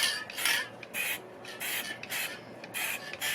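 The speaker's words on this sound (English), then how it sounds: "I'm spray sealing kind of clay tiles right here" A can of Krylon UV-resistant clear spray hisses in short, evenly spaced bursts as it seals stamped clay tiles and photo pieces, each spray lasting about half a second with brief pauses between.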